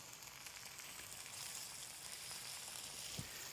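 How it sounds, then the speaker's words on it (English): Chicken scaloppini sizzles steadily in a sauté pan on full heat, a continuous close frying hiss with one brief louder crackle near the end. "So now we are ready to put our scaloppinis in our pan. See, you hear the sizzle."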